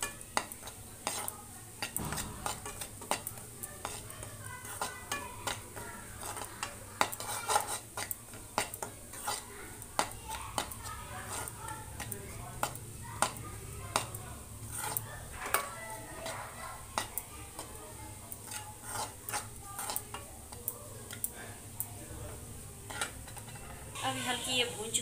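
Besan (gram flour) is roasted in a pan while being stirred continuously, producing a long stretch of scraping with repeated utensil clinks and a light, steady sizzle.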